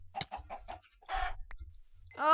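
Minecraft chickens give several short clucks in quick succession, close and clear, followed by a few brief game sounds and a longer squawk-like call at the end.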